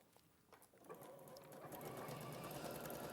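A sewing machine runs a 5/8 inch seam through fabric, starting quietly and building to a steady, close, rapid stitching hum that carries on to the end.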